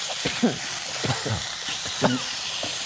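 Seasoned chicken, marinated with rice wine, salt and pepper, stir-fries in a smoking hot pot with a steady close sizzle, while people talk over it throughout.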